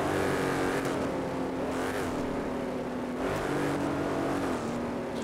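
Loud drag race car engines roar continuously at a night drag race, pitch rising and falling as the cars accelerate and shift, with no pauses.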